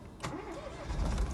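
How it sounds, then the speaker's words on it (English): A Smart fortwo 0.9T Twinamic cabriolet's engine cranks briefly and catches, settling into a low, steady idle heard from inside the car. "Just turn the car on."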